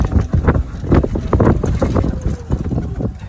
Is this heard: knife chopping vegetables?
no